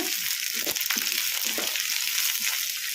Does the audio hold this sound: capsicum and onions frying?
yes